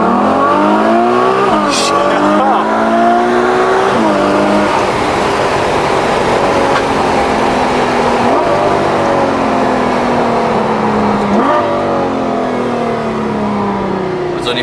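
A Ferrari F8 Tributo howls hard on a race track, revving loud and close through repeated rising gear sweeps with brief shift breaks. Tires squeal now and then, and voices murmur faintly beneath.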